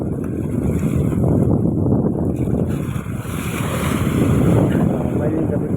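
Strong afternoon wind and waves at sea, a loud, continuous roar of wind and surf washing close by, steady throughout with slight swells in intensity.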